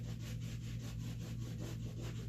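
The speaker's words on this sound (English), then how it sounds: "now I'm going to take my wet rag and I'm going to soften the edges again" Wet rag rubbed over the edges of a drywall mud patch where it meets textured, painted wall, giving a steady rhythmic scrubbing swish over a continuous low hum, close and fairly quiet.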